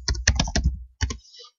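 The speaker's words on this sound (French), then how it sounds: "on fait tout simplement saisir le texte au clavier" Text is typed into a spreadsheet cell on a computer keyboard: quick, close key clicks in a rapid run, a short pause, then a few more taps.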